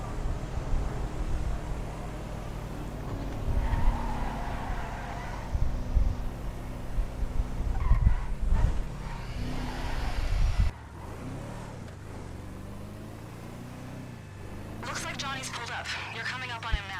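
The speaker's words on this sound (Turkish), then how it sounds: "Araba hem hızlı hem zırhlı." Fast armored car with bulletproof glass driving in a video game: a steady engine drone with revving swells, ending in higher squealing sounds like tires skidding, all under someone talking throughout.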